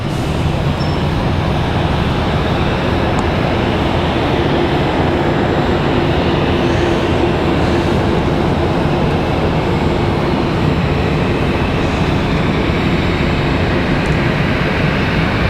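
At Raleigh-Durham airport, a departing airplane moves along with a loud, continuous broadband engine roar and rumble that stays steady throughout, with no talking.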